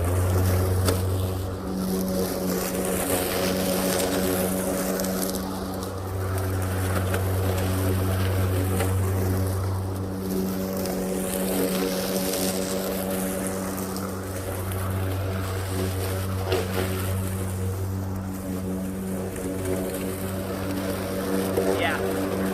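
A DeWalt 40V cordless self-propelled lawn mower hums steadily up close with a strong tonal whine, its pitch and level swelling and easing in slow waves as it runs across the grass while someone talks over it.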